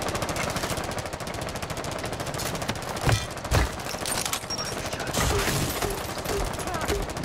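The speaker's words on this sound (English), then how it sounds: "That's a lot of bullets." Rapid automatic gunfire rattles almost continuously through a Rainbow Six Siege match, with a couple of heavier bursts midway and faint voices underneath.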